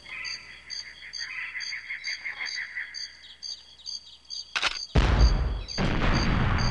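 In N64 GoldenEye 007 a grenade launcher fires with a sharp thump, then a loud, broad explosion bursts and rumbles on, following quieter electronic beeping game tones.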